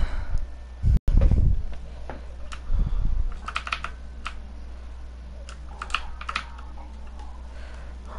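Computer keyboard typing during a Fortnite squads game session: scattered light key clicks in short bursts, fairly faint against a steady low hum, with a couple of louder thumps early on and no talking.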